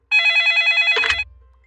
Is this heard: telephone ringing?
yes